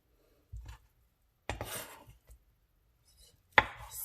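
A knife chops raw ahi tuna into small pieces on a board, three separate bursts of close, crisp cutting strokes with quiet gaps between them.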